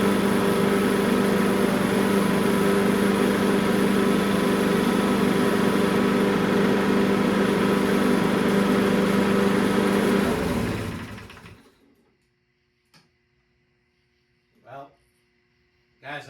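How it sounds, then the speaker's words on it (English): A lawn mower engine idles loudly and steadily for about eleven seconds, then cuts off into near silence broken by a few faint knocks. "this mower's been sitting here for over 15 minutes running without any kind of hesitation whatsoever."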